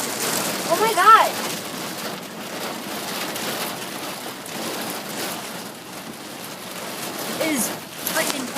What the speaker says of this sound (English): It is freaking pouring outside.